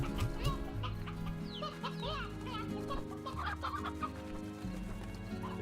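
Hens cluck and chatter in the farming game Slime Rancher. The clucking is close and steady, with music beneath it and some talk.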